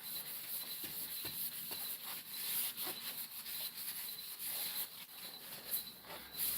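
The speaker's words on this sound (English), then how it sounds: "Just taking some Scotch-Brite and stroking my rod here." A Scotch-Brite pad rubs along a fishing rod in a workshop, giving quiet, repeated scratchy strokes in an uneven back-and-forth rhythm, close up and with no talking.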